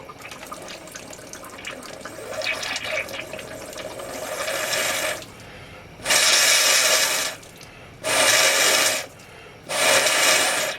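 Gurgling, sputtering water is followed by three loud bursts of rushing air and spray as air blows water out of a Honda CB 500 motorcycle's cooling system, each lasting a second or two with brief pauses between.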